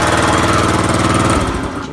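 A Kymco Super 8 scooter engine runs steadily and loudly up close, a buzzing idle with a rapid pulsing rhythm that cuts off near the end.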